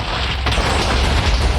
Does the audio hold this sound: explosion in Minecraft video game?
yes